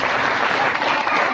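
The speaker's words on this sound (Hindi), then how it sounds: "अब इनके लिए जोरदार ताली बजाएं" Dense, steady applause from an audience at a Vyasa puja gathering for a group of children who sang bhajans, a continuous loud clapping wash throughout.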